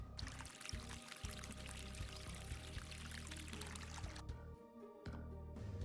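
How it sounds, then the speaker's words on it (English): Steamed milk poured in the café game Cats & Cups, a steady liquid pour sound running nearly continuously over a bed of game music, breaking off briefly near the end. "We need to pour it down."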